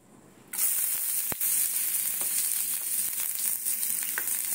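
Chopped ginger dropped into a little hot oil in a heated pan bursts into a loud, steady sizzle that holds for several seconds, close up, with a faint stir or tap partway through.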